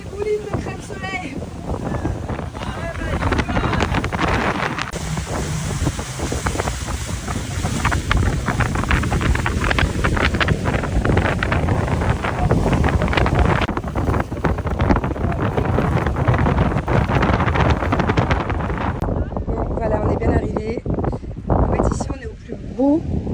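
Steady, loud wind buffeting a boat at sea near a Zanzibar sandbank, with broadband rushing that continues for the whole stretch and drops away briefly near the end, and people talking over it.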